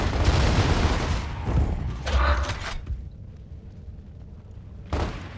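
Gunfire and mechanical clatter in Gears of War: Ultimate Edition, a dense burst of shots up front, another flurry around two seconds, quieter combat noise after, then a brief final burst near the end.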